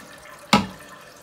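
A single brief burst of splashing water as a plumber refills a drain after refitting a part, close and fairly loud against quiet room tone.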